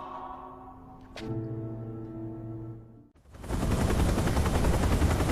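A sustained tone fades out, followed by a sudden loud, broadband roar of rapid rotor chopping from an arriving helicopter that stays heavy and continuous.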